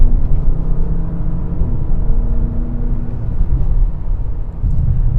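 A 2025 Bentley Bentayga S Black Edition with a twin-turbo V8, driven in sport mode, gives a steady low engine rumble and road drone inside the cabin, muted and continuous.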